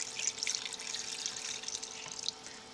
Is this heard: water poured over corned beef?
yes